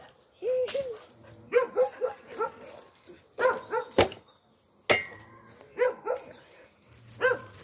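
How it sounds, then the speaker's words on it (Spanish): A restless dog barks in a string of sharp, uneven outbursts, some close together and others spaced apart, with a few sharp knocks or clatters mixed in around the middle. "Ese perro está un poco inquieto."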